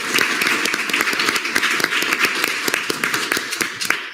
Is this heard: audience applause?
yes